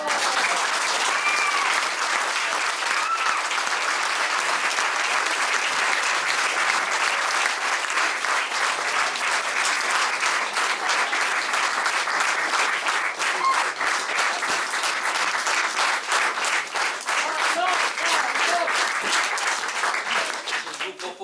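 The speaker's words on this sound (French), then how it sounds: "J'aimerais que vous applaudissiez quelqu'un de très talentueux, c'est Yanis Camus" An audience at a live comedy show applauds a performer with sustained, dense clapping that stays loud and even for about twenty seconds before thinning slightly at the end.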